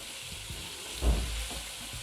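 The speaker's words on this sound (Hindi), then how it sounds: "अब इसको भून लेंगे, लहसुन अदरक की पेस्ट को" Garlic ginger paste fries with cauliflower in a pan, giving a soft steady sizzle with one brief louder stir or clatter in the middle, no talk.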